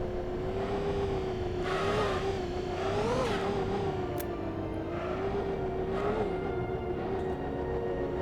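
A buggy in Star Citizen drives with a continuous engine whine that rises and dips as it speeds up and slows, steady and close throughout with no talk.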